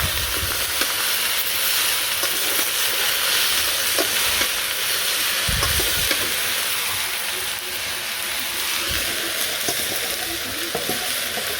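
Shing fish curry cooking in a pan on the stove, a steady loud sizzling hiss running throughout with occasional stirring clatter and low bumps.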